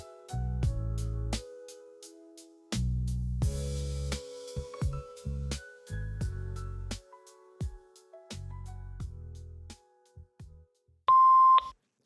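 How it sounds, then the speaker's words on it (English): A voicemail greeting's closing beep: after a stretch of synth music chords, a single loud, steady electronic tone sounds near the end for about a second, alone and clear. "Please generate your message after the beep."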